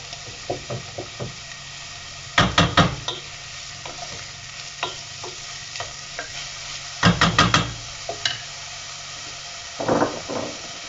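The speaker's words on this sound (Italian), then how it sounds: "Ora aggiungo lo speck." Speck frying in a pan, heard as a steady faint sizzle broken by a few bursts of stirring and scraping, with sharp clustered knocks of a utensil against the pan.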